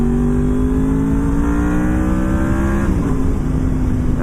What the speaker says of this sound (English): And that was the VTEC right there.